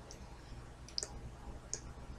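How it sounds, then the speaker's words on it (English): Computer mouse clicks while working in Microsoft Outlook: a few sharp, isolated clicks spaced irregularly over a faint steady background hum, with no talking. "you're going to click on Mail, and go down and click on Signatures"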